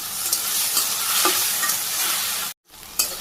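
Okra fries in a hot pan with salt, turmeric and chili powder, and a spatula stirs it. The sizzle is loud and continuous, scraping close up, with one brief pause before it resumes.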